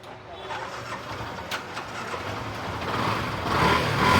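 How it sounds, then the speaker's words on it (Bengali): A used Yamaha FZ V2 FI motorcycle engine starts and runs, a rough mechanical hum building in loudness over a few seconds, with someone speaking over it at a dealer's lot. "এই যে দেখেন ইঞ্জিনের সাউন্ডটা দেখলে বুঝবেন"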